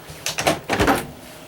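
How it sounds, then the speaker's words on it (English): The dual swing door of a 12-volt refrigerator in a 2025 Forest River Grey Wolf 20RDSE travel trailer is pulled open, giving two short close thumps and clicks of the latch and seal releasing. "your 12-volt refrigerator has a dual swing door. You just pull it to open it"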